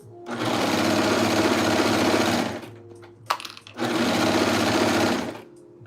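A sewing machine stitches a hoodie in two loud, steady bursts of whirring, each about two seconds long, separated by a short pause with a few clicks and handling noises.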